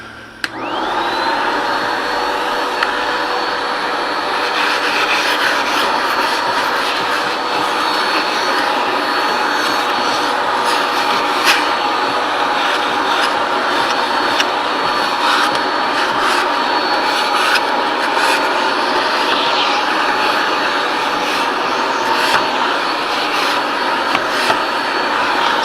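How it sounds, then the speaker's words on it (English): Shop vacuum hooked to a sander runs steadily while dust is pulled from a window sash, a loud continuous whine and rushing roar holding even for the whole stretch with no talking. "when I have the vacuum turned on"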